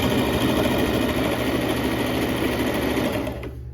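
A sewing machine stitches quickly over fabric, overlapping a seam already sewn. The motor hums in a loud, steady, rapid whir that stops abruptly at the end. The sound is close and has no talk over it.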